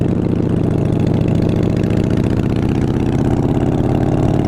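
A Harley Softail with a 98-inch big bore engine, ported heads and a 510 cam runs steadily, a loud, close, continuous low rumble with a throbbing beat and no voices.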